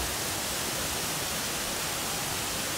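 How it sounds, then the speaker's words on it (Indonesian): Coban Putri waterfall in Oro-Oro Ombo, Batu, Malang, heard as a dense, continuous broadband rush of falling water, loud and close with no talk over it. "Ini dia air terjun Coban Putri yang ada di wilayah Oro-Oro Ombo, Kabupaten Batu, Malang."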